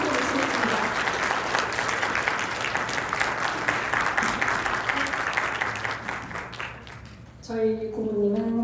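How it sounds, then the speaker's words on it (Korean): A large audience at a Korean corporate talk event gives loud, sustained applause that fills the room, fading slightly near the end as a voice begins speaking over it. "일단 큰 박수 한번 부탁드리겠습니다."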